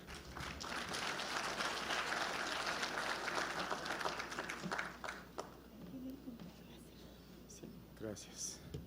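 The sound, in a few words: audience applause welcoming a speaker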